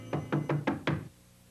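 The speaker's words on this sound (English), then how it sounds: "In the morning, there was a knock at the door." Five firm knocks on a wooden door in quick, even succession, close and clear, then quiet.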